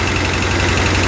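A 1966 Ford F100 390 V8 truck engine idles with a low, steady throbbing rumble, close by and continuous, with one noisy lifter and a slight exhaust leak.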